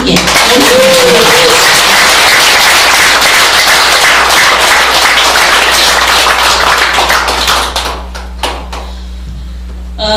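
Audience applause at a business seminar, dense and loud from a large crowd, filling most of the stretch before thinning toward the end.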